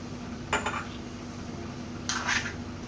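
Papaya pieces with yellow food colour are stirred in a bowl for homemade tutti frutti, giving two short bursts of spoon clinking and scraping against the dish over a quiet room hum.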